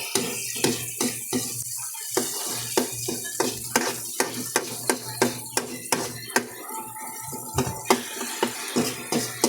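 Onion and ginger sauté in a pan, with a steady sizzle and a quick, regular series of spatula scrapes and knocks against the metal. The sound is close and there is no talking.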